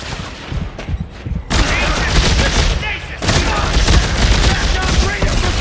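Loud, dense gunfire from the sci-fi horror shooter Dead Space 3 rattles almost nonstop. Rapid shots pile up into a continuous fusillade with only a brief lull.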